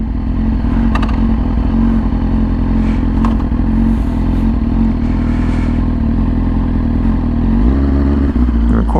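A Yamaha R6 sport motorcycle runs loud and close, its engine holding a steady, rumbling idle with a few sharp blips of rising revs before settling lower near the end.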